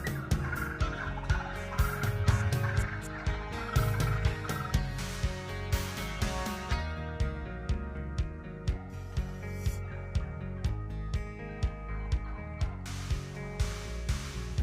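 Wild turkey hens call all around a hunting blind with repeated clucks and yelps that overlap near and far, a busy, steady chorus lasting throughout.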